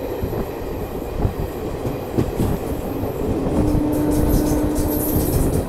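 The Garib Rath express between Mumbai and Delhi runs on the rails, giving a loud, steady rumble and clatter from inside the train, with a thin wheel squeal partway through and no voices.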